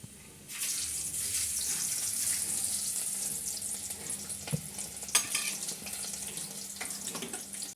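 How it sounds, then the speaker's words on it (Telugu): Fish frying in hot oil in a home kitchen for a fish curry, a steady broadband sizzle running throughout with a few sharper pops and clinks of utensils, no voices. "ఇక్కడ ఫ్రై చేస్తుంది ఆల్రెడీ. ఇలా పెట్టేసింది, నూనె వేసేసింది."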